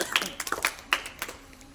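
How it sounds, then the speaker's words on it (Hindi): A classroom quiz audience in Chhattisgarh claps for a correct answer in a brief, uneven burst of a few sharp, nearby hand claps that fades out after about a second. "जोरदार तालियों से स्वागत किया जाए"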